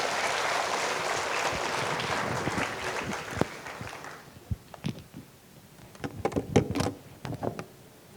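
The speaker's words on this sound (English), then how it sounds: "Please give a round of applause to Dr. Richard Parker" Audience applause for a guest of honour at a formal ceremony swells as a thick wash of clapping for about four seconds, then thins into a few scattered claps and soft knocks.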